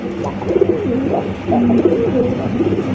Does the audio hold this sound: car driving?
no